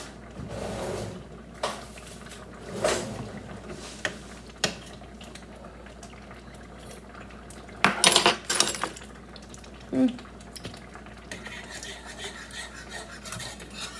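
Small spoon fetched in a home kitchen while beef enchilada sauce simmers, with a few sharp metallic clinks and rattles, a louder cluster of scraping and clattering in the middle, then quieter background hiss.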